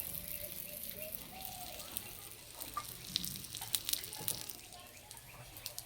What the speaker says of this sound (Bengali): এবারে 1 হাতা করে সুজির ব্যাটার নেব আর এই হাতার মধ্যে দিয়ে দেব। হালকা আঁচে ভেজে নেব।